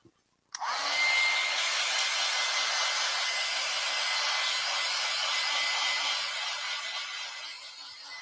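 A hair dryer blows steadily on wet acrylic paint on a flower painting, switching on abruptly and holding a loud, continuous airy whoosh for about seven seconds before easing slightly near the end.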